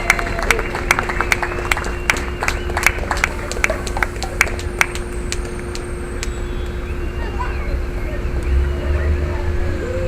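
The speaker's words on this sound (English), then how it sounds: "Big round of applause for Martha." A modest group at a community recycling meeting claps for certificate recipient Martha, a thin scattering of distinct hand claps that thins out after a few seconds over a steady background hum.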